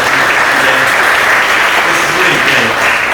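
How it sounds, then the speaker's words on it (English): Loud, steady applause from a large audience at the ECC'17 keynote fills the hall, a dense, continuous wash of clapping with no voices standing out, holding evenly from start to finish. "So please, another applause for all of these guys that made this"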